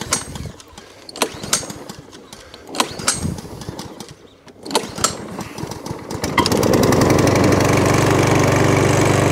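A Mountfield 464 lawn mower engine is started and settles into a steady, loud, continuous running drone after a few sputtering pulls, with clattering handling noises before it catches.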